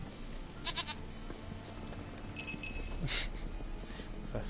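Goat in the video game The Witcher 3 giving a few short, fairly close bleats over a low ambient hum, with a faint metallic clink near the middle.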